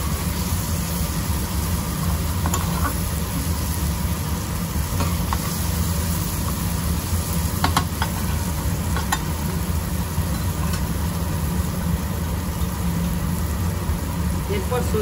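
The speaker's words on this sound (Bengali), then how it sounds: "লবণটা দিয়ে ভালো করে কষিয়ে নেব।" Okra sautéing with salt in a hot pan: a steady, continuous sizzle with occasional stirring scrapes over a constant low background hum.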